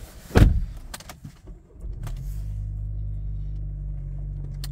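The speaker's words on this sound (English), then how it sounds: "and I'll just start the car." A 2017 Vauxhall Astra SRi VX-Line 1.4T starting: a sharp door or switch thump and brief starter whir, then the engine settles into a steady, close, low idle hum.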